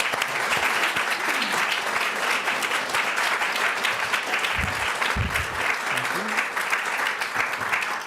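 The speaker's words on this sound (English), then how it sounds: "round of applause for our candidates" A round of applause for candidates at an environmental candidate forum, with dense, loud clapping from a crowd and a few voices underneath.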